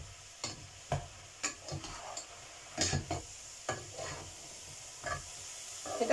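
Ground meat frying in a pan is stirred, with a quiet sizzle under a series of irregular scraping strokes, about a dozen over several seconds, and no talking.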